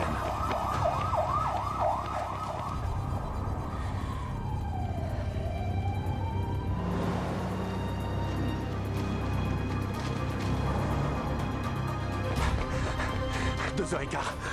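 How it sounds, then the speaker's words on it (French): A wailing siren rises and falls over loud, continuous traffic and street noise, with voices talking in the background. "Sirène."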